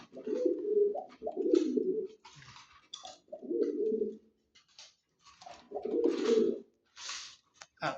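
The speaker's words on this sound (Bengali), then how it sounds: "এই যে পাগলা কবুতর আমার" A pigeon at a loft in Munshiganj coos in soft, low, throaty bursts with gaps between them, close by, with faint chirps and light background rustling in the pauses.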